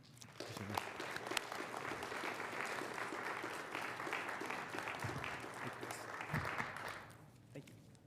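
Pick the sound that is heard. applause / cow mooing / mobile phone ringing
applause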